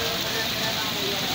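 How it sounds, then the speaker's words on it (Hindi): Heavy stormy rain with strong wind pours over a Karachi rooftop in Punjab Colony, a dense, steady hiss and patter filling the whole moment close by. "बहुत तेज़ बारिश हो रही है इस टाइम"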